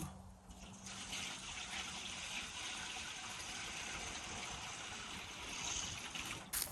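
Water pours steadily into a metal wheelbarrow in a broad, continuous splashing rush that holds loud and even for several seconds before cutting off at the end.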